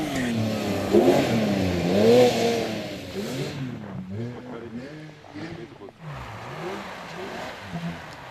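A 520-horsepower rear-wheel-drive sports car with a PDK dual-clutch transmission accelerates hard on a race track, engine revving up and dropping through repeated shifts, loud and near, with someone talking over it.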